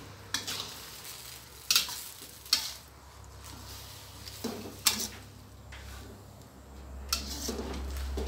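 Noodles being stir-fried with mixed soy sauce, a low steady sizzle beneath repeated sharp scrapes and clanks of a utensil against the pan at irregular intervals, close by with no talk.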